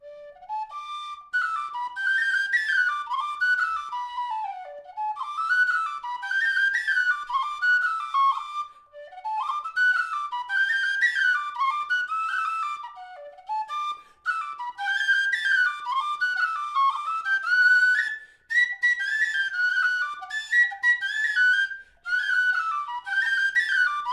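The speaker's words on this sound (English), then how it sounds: "The High D whistle is your go-to session whistle." A High D tin whistle made of grenadilla wood with silver fittings plays a lively melodic tune, clear and alone, with short breath pauses between phrases.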